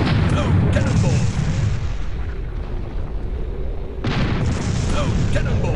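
Cannon fire booms aboard an airship in the game Air Buccaneers, a heavy rumbling blast near the start and another around four seconds in, with dense low-end roar and a voice shouting throughout.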